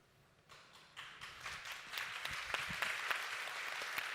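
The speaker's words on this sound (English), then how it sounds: "Why are we applauding?" Applause builds from a few scattered claps into steady clapping from an audience, moderately distant and growing fuller over a few seconds.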